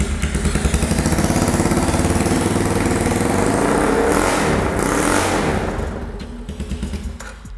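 A chopper motorcycle built on a Scorpio engine with a free-flow exhaust idles close by, a loud, steady bassy rumble with rough, noisy edges that eases slightly near the end.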